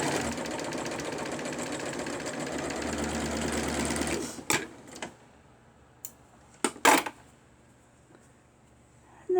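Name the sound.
sewing machine sewing a doll dress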